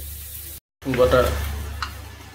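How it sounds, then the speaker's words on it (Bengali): Chopped capsicum and onion sizzle in a hot pan while being stirred for spicy chilli chicken, a steady frying hiss with a short break and a spoon scraping, alongside a low hum. "ক্যাপসিকাম পেঁয়াজ কুচি দিয়ে দেওয়া হলো, হালকা করে নেড়ে চেড়ে নেওয়া হচ্ছে।"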